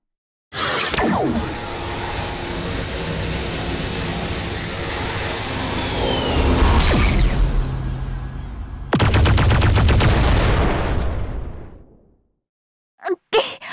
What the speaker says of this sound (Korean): 엄청난 폭발이야! 멀리 떨어져 있는데도 풍압이 이렇게 강하게 느껴지다니!